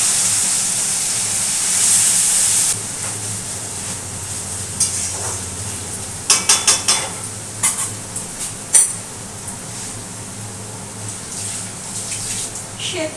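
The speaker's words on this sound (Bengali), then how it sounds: "এইবার দিয়ে দিচ্ছি এই যে কচুর শাক যে ছেঁকে রেখেছি ভালো করে" Washed, drained taro greens added to a hot tempering in a pan, a rush of hissing steam followed by a quieter sizzle with bursts of clattering stirring, close by.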